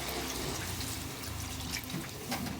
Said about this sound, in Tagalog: Lagyan natin ng kunting tubig mga lods para mayroon tayong sabaw-sabaw konti.